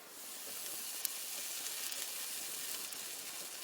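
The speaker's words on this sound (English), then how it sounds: "when you put a piece of cheese on a burner that's on high" A piece of cheese sizzles and fries on an induction burner set to high, giving a steady, fairly faint hissing crackle with one brief pop.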